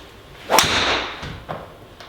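One sharp, high-pitched crack of a Ping G400 Max driver hitting a golf ball, followed by a brief fading whoosh, with faint outdoor background noise.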